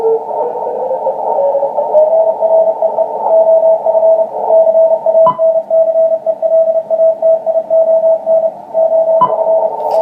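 A steady Morse code tone from W1AW on the 20-meter amateur band, beeping in quick keyed bursts over constant hissy band noise, with a couple of sharp static crackles.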